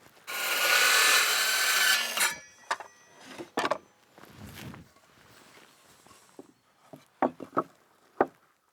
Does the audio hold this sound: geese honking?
no